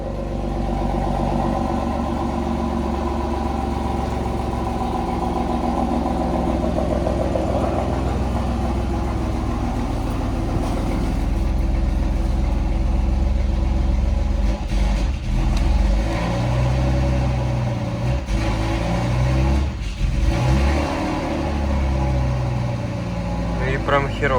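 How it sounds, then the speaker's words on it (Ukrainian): A BMW E34 that had not been running catches and settles into a loud, close engine run with blips of revving, while people talk over it. "Подгазуємо. Завелась."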